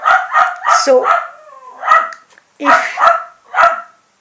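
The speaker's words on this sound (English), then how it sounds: "sorry for my dog" A dog barks several times in close succession during a teacup tarot reading, the sharp yips mixing with a person talking nearby.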